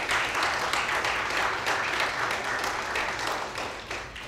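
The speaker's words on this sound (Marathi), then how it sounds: "कौशल इनामदार यांचे टाळ्या वाजवून आपण स्वागत करूया" An audience claps steadily to welcome composer Kaushal Inamdar onstage, a dense even wash of applause lasting the whole stretch at moderate, somewhat distant volume.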